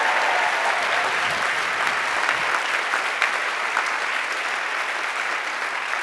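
A large audience applauds the semifinalists at a fast pitch final showdown, a steady dense wash of clapping that holds loud and even for several seconds with no talk over it.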